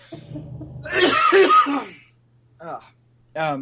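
A burst of harsh coughing and throat clearing up close, followed by two short bits of speech.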